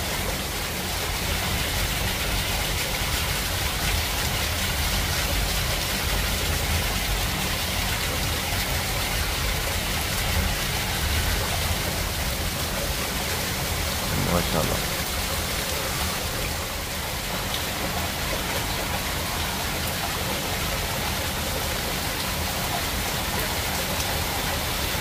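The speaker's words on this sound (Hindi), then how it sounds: "बहुत तेज़ बारिश हो रही है" Heavy storm rain in Gujrat, Pakistan pours down in a dense, unbroken roar that holds loud and steady the whole time, with no voices.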